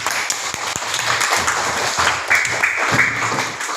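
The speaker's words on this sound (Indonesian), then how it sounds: "Tepuk tangan untuk Febri" A classroom group claps for a student, a dense, steady patter of many hands that carries on for several seconds, close and fairly loud, with a little background chatter mixed in.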